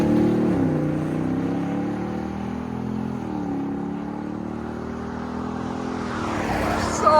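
A 2025 Ford F-250 Tremor with a 7.3L V8 and Borla ProXS exhaust rumbles close by, its deep engine note rising and falling through a short rev before settling, with a brief bump at the end.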